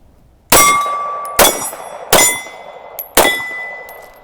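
Four loud, ringing metallic clangs, each struck by a rifle shot at a steel target downrange, arrive at uneven intervals under a second apart, each strike leaving a bright, sustained ring that decays.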